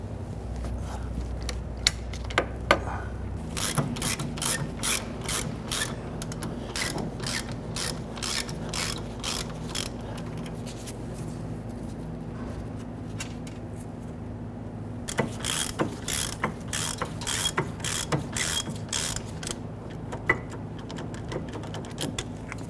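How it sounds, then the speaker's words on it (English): Ratchet wrench loosening rear brake caliper bolts on a 2006-2012 Toyota RAV4, giving bursts of rapid metallic clicking that stop and start again, close and moderately loud, with no talking. "I'll go ahead and pop a ratchet onto them"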